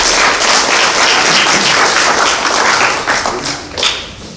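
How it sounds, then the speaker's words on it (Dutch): A hall audience applauds steadily for a speaker at a Dutch event, dense and close, a bright wash of clapping that holds for several seconds before thinning out. "Een applaus voor Ewa."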